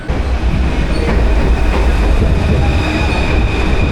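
A train at a railway station near Père Lachaise cemetery in Paris gives a steady, loud rumble with a faint high whine running through it, continuous throughout.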